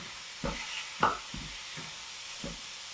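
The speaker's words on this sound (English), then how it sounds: "Now I'm going to brown up our meat. Got the ground beef in here and the Italian sausage." Ground beef and Italian sausage brown in a pot with a faint, steady sizzle, broken by a few soft scrapes and clicks of stirring.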